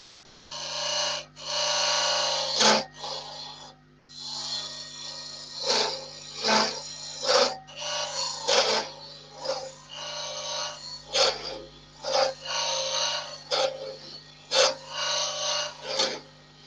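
A square scraper shaves and cleans up a wood turning on a lathe for a Minnie Mouse piece, giving a steady rasping whir broken by repeated short scraping strokes, close and fairly loud.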